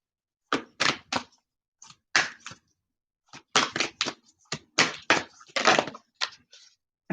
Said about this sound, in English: I saw this card shuffling too